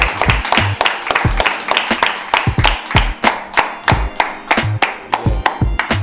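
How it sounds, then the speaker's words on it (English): Scattered, uneven hand claps from a small group, sharp and close, in a loose irregular rhythm that stays fairly steady for several seconds without voices. "I want to give them a round of applause,"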